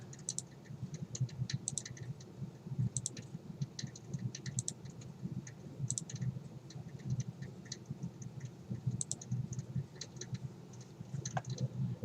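Light, scattered mouse clicks while the shift key is held in graphic design software to add to a selection, ticking irregularly and close with no talk.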